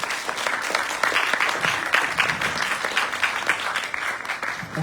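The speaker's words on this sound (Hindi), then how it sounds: "तालियों से स्वागत करें" A crowd applauds to welcome the director onto the stage at a drama event, dense, even clapping sustained for several seconds without a break.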